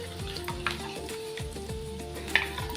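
Talimpu tempering sizzles steadily in a hot pan, a close crackling hiss broken by a few light metallic scrapes and taps of a spoon.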